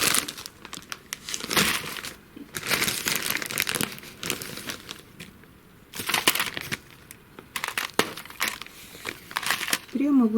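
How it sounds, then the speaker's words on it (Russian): Damp potting soil is shaken from a plastic bag over gladiolus bulbs, giving close, loud bursts of crinkling plastic and gritty rustling that come in uneven clumps separated by quieter pauses. "И сверху присыпаем все это дело землей."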